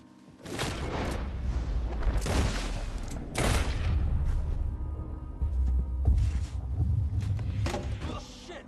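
A burst of gunfire in Red Dead Redemption 2, loud sharp reports with heavy booms spread through the clip, several shots overlapping in rapid bursts over a rumbling low background.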